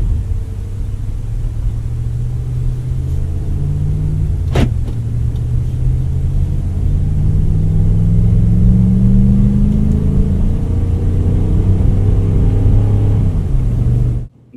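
A 2017 Ram 1500 pickup towing a trailer carrying a 2020 Dodge Challenger accelerates on the highway, its engine note rising in a steady drone through gear changes, heard from inside the cab with no voices.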